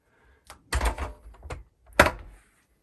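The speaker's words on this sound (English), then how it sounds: "now I'll close the second door" The second door of a recording studio closing, a soft bump followed by a heavier thud and a sharp latch clunk, close by and alone.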